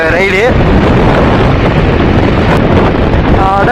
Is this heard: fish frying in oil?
no